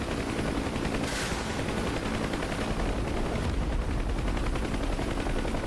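Sustained gunfire from the DCS UH-1 Huey helicopter flight simulator, a dense, continuous rattle of rapid shots with a steady rumble underneath, loud and unbroken for several seconds.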